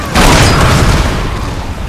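Ground spikes erupt during a Metal Gear boss fight against Sahelanthropus, giving a loud, sustained booming rumble with dense crackling explosions filling the whole two seconds.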